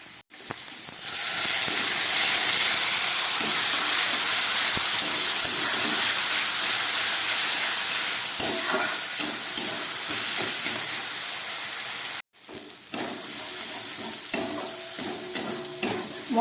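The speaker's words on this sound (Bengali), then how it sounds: "খুব ভালো করে এবার এটাকে আমি কষাবো।" Spices with chilli powder frying hard in a pan for a banana-flower curry, a loud continuous sizzle and steamy hiss with repeated spatula scrapes and clinks, close up, briefly cutting out before resuming with sharper stirring taps.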